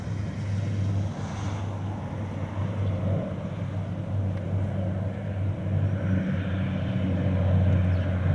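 Propeller aircraft engines drone steadily overhead during a flyover of two planes, a continuous low hum that swells slightly toward the end, with no talking.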